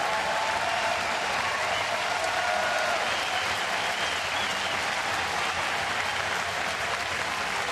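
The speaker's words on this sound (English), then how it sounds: "Pat on the back from the manager and a nice round of applause." A baseball crowd in Toronto applauds a departing pitcher during a Colorado at Toronto game, producing steady, dense clapping that holds at an even level throughout with no clear talk over it.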